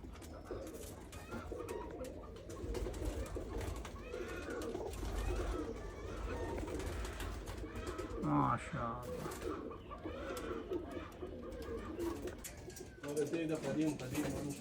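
Pigeons coo continuously in a breeder's loft, with soft, low, overlapping calls heard throughout under nearby people talking.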